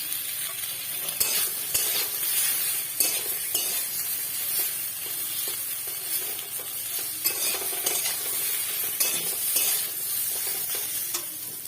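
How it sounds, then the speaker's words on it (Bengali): Salted bitter gourd slices fry in ghee in a pan, producing a continuous, close sizzle broken by small pops and occasional utensil scrapes. "তারপরে একটু ভেজে নিয়েছি ঘি করলা"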